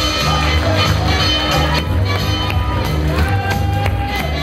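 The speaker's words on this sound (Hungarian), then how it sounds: "egy nagy tapsot kérjük" An audience at a Midea award ceremony applauds, a dense patter of clapping over a low background of music, sustained throughout.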